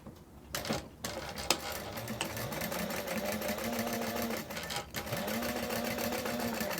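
A sewing machine stitches backpack pieces together with basting, rapid rattling runs of needle strokes broken by short pauses and light clicks, close by and alone.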